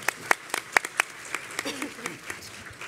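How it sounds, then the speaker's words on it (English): Scattered audience applause for a speaker at a domestic violence community resource fair and symposium, a handful of distinct claps standing out at first, then thinning to a lighter patter under faint talk. "And everyone, please give her a round of applause."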